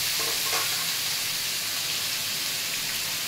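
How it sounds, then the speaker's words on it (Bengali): Pumpkin pieces frying in a pan, a loud continuous hiss and sizzle of hot oil close up, with no talk over it. "কুমড়োটা ততক্ষণ ভাজা হোক,"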